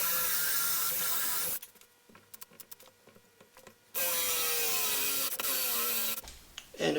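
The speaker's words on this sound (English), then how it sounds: "you always kill a drill battery when you're drilling your last hole" A cordless drill whirs in two long bursts, boring dog holes into a wooden workbench with a Milescraft Drillmate guide, with quieter clicks and handling noises between them.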